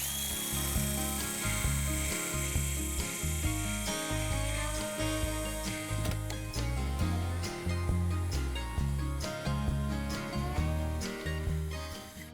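A drill whirs loudly up close, spinning a sandpaper strip wrapped around a wooden table leg, rasping against the wood in steady, rhythmic surges.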